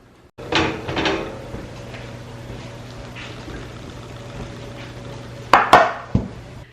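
Dishes being washed at a home kitchen sink, with a few loud clanks of pots and pans near the start and a sharper cluster of clattering near the end, separated by quieter handling and a steady low hum.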